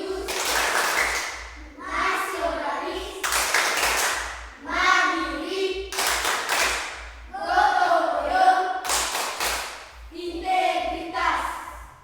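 Schoolchildren in a classroom perform a rhythmic patterned clapping routine, bursts of sharp claps alternating with chanted group voices in a repeating cycle, fairly close and loud.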